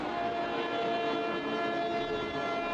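A local passenger train on the Howrah to Tarakeswar line rumbles along steadily, a dense continuous roar of wheels and carriage noise with a faint tonal whine, loud and close throughout with no talking.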